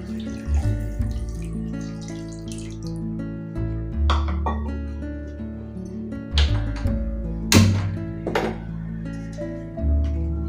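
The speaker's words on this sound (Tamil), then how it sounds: "ஒரு கடாயில் சேர்த்து மூழ்கிற அளவுக்கு மட்டும் தண்ணி சேர்த்துக்கலாம்." Water is poured into a pan while making boondi laddu, splashing and gurgling in several separate bursts with short pauses between them.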